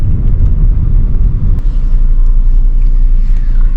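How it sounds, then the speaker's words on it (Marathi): A car creeps slowly along narrow, traffic-jammed roads in Mahabaleshwar, with a steady, close engine rumble and road noise running continuously and no talk. "रस्ते थोडे छोटे असल्यामुळे खूप हळू कार चालवावी लागते"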